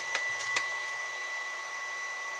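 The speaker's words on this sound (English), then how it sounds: "If you're wondering what all that motor noise is, it's my 3D printer." 3D printer printing a case, its stepper motors giving a steady whirring hum with faint tonal whine and a few light clicks near the start, continuous and moderately close indoors.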